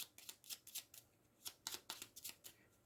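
A deck of board game cards being shuffled, a quick series of crisp riffling bursts in two rapid clusters, close and quiet with no voices.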